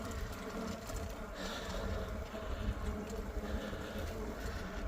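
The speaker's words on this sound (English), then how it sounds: "so many bugs here." Insects buzz steadily outdoors beside a dry cement pathway during an e-bike ride, a dense continuous drone with no clear pauses.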